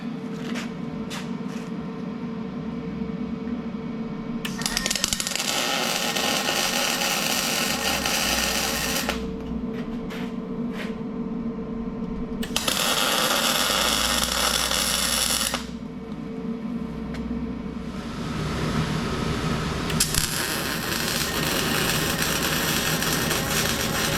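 MIG welding on a steel bracket for mounting a Packard 356 engine block onto an engine stand: three long bursts of harsh, crackling arc buzz, each several seconds, separated by quieter shop hum.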